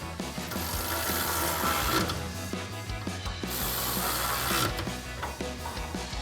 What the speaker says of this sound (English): Now we'll take our 16mm socket on our ratchet and tighten these down.